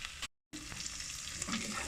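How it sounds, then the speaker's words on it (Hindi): Minced meat mixed with bone tipped into a pan of sautéed ginger and garlic, giving a steady, soft sizzle and crackle of frying with a brief dropout near the start. "साथ ही मैं इसमें अपना कीमा ऐड कर देती हूँ जो कि हड्डी के साथ मिक्स है।"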